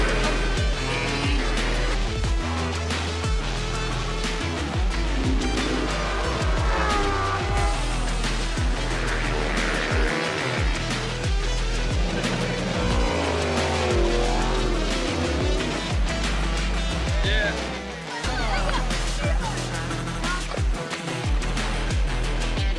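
Lamborghini Super Trofeo race cars at a race start at The Bend Motorsport Park, a dense, loud wall of engine roar and revving with shifting tones and brief tire squeal, sustained throughout with a short dip near the end.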